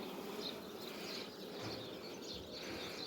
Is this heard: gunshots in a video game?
no